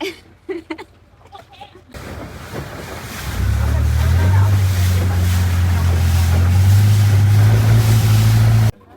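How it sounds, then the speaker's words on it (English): A canal boat's engine on the Chao Phraya River in Bangkok starts up and drones loudly and steadily, with water and wind noise around it, after a few seconds of quieter handling sounds. "We ended up on the boat, like this."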